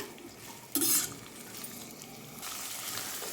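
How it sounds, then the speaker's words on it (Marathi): Peas, carrots and capsicum being stirred and fried in a pan for vegetable pulao, giving a steady close sizzle with a brief louder scrape of utensil against the pan near the start, no voices. "आपण ह्या सगळ्या भाज्या याच्यामध्ये मस्त मिक्स करून घेऊ दोन तीन मिनिट फ्राय करून घ्यायचे"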